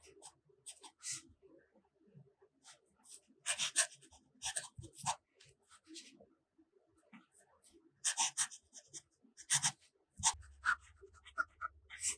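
A fountain pen nib scratches across copy paper in close, dry bursts of short strokes separated by pauses, with no talking; a low hum enters near the end.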